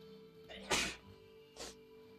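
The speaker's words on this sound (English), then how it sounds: "I had to do a sneeze there." Two sneezes from a man during a gaming session, a sharp loud burst followed by a softer second one about a second later, close to the microphone with no talk in between.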